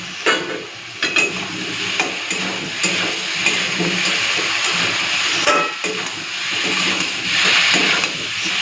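Spice paste frying with potato and taro in a pan: a loud, continuous sizzle close by, broken by regular scraping stir strokes, with no talk.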